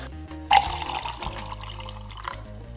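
Filtered water is poured from a cup into a container to make almond milk, starting with a sudden splash. A steady, gurgling trickle follows and keeps going to the end.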